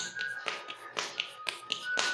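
Soft dough is patted flat between two palms while being turned into a round, producing about five crisp slaps at a steady, even rhythm, close by and fairly quiet, with a faint tone humming underneath.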